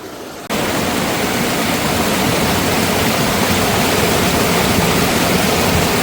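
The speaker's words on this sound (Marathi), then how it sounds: "बघा कसला प्रेशर आहे पाण्याचा आवाज बघा कसा ते" A sudden burst of loud, forceful rushing water that starts abruptly and continues as a dense, unbroken roar, close by.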